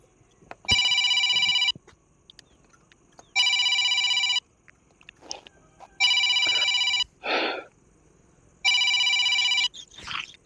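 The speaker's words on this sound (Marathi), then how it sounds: "फोन कोणाचा आला ग?" A telephone rings in four evenly spaced bursts of bright, buzzy tones, with brief faint household noises filling the pauses between rings.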